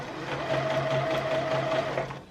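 A sewing machine runs steadily at close range while stitching the side seams of a shirred top, a continuous whirring hum with a fast mechanical patter that stops near the end.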